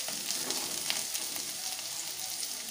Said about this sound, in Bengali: এবারে আমি একটু ফ্লেমটাকে হাই করে দেবো ভাজার জন্যে।